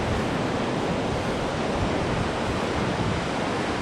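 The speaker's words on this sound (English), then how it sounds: "the beach here and the waves" Ocean waves wash onto a beach as a steady, dense roar with no breaks, heard close and alone, with no voices.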